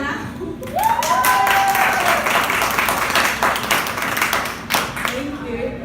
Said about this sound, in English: Clap a hand for Tiana.